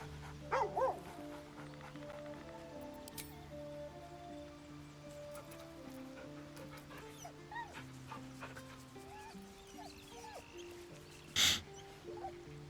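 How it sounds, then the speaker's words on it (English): Scratch the dog in the video game Baldur's Gate 3 gives a few soft whimpers and yips, one short early cluster and a sharper bark near the end, over quiet background music. "Good dog."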